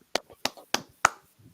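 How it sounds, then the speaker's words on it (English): A few sharp hand claps at a brotherhood class meeting land in an even rhythm, four crisp near strikes about a third of a second apart, followed by a faint low murmur. "Clap it up."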